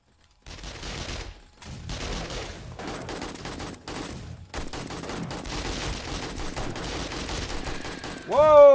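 Turrets firing guns in the video game 7 Days to Die, dense rapid gunfire in sustained bursts with brief pauses, loud and close, ending in a sharp rising tone.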